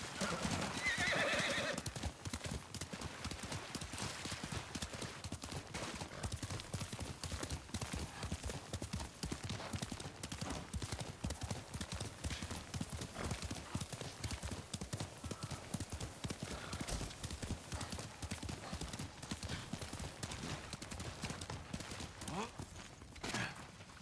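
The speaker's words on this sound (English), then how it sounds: "Horse!" A horse in the Ghost of Tsushima video game gallops with rapid, continuous hoofbeats, opening with a loud neigh and then a steady thudding clip-clop rhythm that carries on for the whole stretch, with faint talk now and then.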